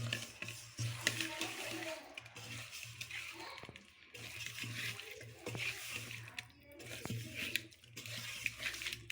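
Wet squishing and slapping as a spice marinade of salt and lemon juice is mixed onto kumula fish by hand, soft irregular sounds over a steady low hum.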